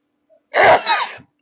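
A single loud sneeze, sharp and close, preceded by a tiny intake and followed by a brief trailing breath.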